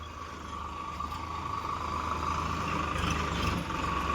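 Tractor driven across a building site where soil is being spread, a steady nearby diesel drone with a low rumble and a rattly edge, holding an even level throughout and swelling slightly toward the end.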